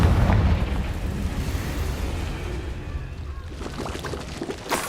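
A Confringo fire spell bursts in Hogwarts Legacy with a loud blast at the very start, followed by rumbling, crackling game noise that settles into a steady roar, with a smaller pop near the end.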